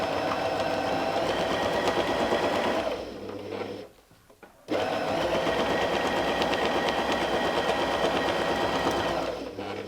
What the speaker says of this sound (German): Nähen einmal bis zum nächsten Bogen und wir nähen wieder zurück.